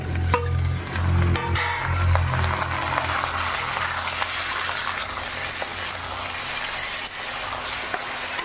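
Washed chicken meat dropped onto fried onions in a home kitchen pan: a heavy thud and hiss at first, then a steady, close, crackling fry that continues without talk.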